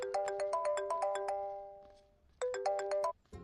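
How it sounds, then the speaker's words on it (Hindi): A phone ringtone plays an incoming-call melody of quick repeated chime notes in two bursts with a short pause between, loud and close, with no talking. "आपको किसी का फोन आ रहा है"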